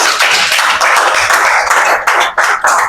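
Delegates at a Nigerian general assembly applaud themselves, loud close clapping from many hands in a sustained burst with a few brief dips, no speech over it.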